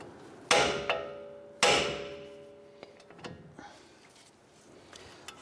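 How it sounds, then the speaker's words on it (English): Two sharp metallic hammer blows on the steering knuckle of a Ram 1500 pickup, ringing out close up, each with a long bright decay, followed by a few lighter taps and clanks. "We're gonna strike the side of our knuckle here, and this should release our ball joint"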